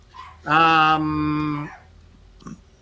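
Dogs at home let out a single drawn-out, howling bark, loud and fairly close, that trails off, then a faint short yip follows in a quiet room.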